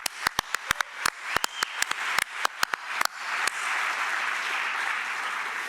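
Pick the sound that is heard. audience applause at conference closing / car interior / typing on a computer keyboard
audience applause at conference closing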